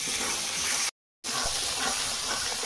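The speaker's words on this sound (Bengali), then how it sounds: "মশলা বসে যাচ্ছে, খুব সামান্য জল দিচ্ছি। মশলা কষানো হচ্ছে" Spices sizzle in a pan with a little water, giving a continuous loud hiss that briefly cuts to silence before resuming.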